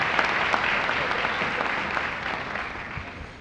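An audience at an interfaith prayer breakfast in Pasadena claps together, a dense, even patter of many hands that fills the room at moderate volume and fades slightly toward the end.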